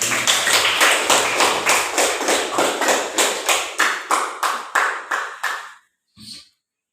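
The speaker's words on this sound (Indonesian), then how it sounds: "Jadi kita beri tepuk tangan untuk semua yang menjawab tadi yang banyak." A classroom audience claps for those who answered: a quick run of about fifteen rhythmic, evenly spaced claps fading in strength, followed by a brief pause and a single softer final clap.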